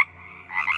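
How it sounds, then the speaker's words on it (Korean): Frogs croaking loudly nearby, a dense chorus of raspy, buzzing calls, a steady drone swelling into a louder overlapping burst. "진짜 귀가 먹먹해질 정도로 개구리 울음소리가 들리더래요."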